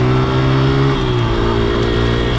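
A car engine revs steadily at close range, a loud sustained drone whose pitch dips slightly midway, with no talk over it.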